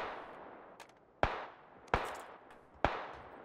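Gunfire in the video game PUBG on Xbox One: three sharp, fairly loud shots spaced under a second apart, each with a short decaying tail, against a quiet hissy background with faint clicks.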